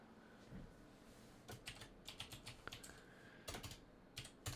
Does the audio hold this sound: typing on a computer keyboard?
yes